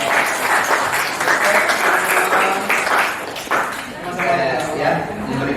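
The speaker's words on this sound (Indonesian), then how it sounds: "Kita berikan tepuk tangan kali untuk Pak Imron." Students applauding a teacher in a classroom, a loud sustained round of clapping with cheering voices and chatter mixed throughout.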